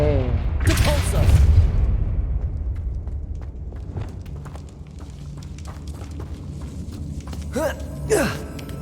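A Confringo blast spell in the video game Hogwarts Legacy, a loud fiery burst and boom near the start that decays into rumbling debris, followed by footsteps and another sharp magical crackle near the end.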